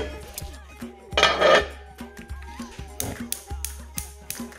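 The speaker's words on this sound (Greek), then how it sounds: "Προετοιμάζουμε την κατσαρόλα" Cooking pot being readied in a kitchen, with a run of metallic clanks, taps and scrapes of cookware and utensils, close and intermittent, one louder rattling clatter near the start, followed by lighter knocks.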